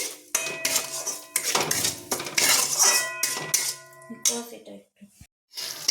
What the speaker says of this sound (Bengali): স্বাদ অনুযায়ী চিনি দিয়ে আমি এবার নাড়াচাড়া করে নিচ্ছি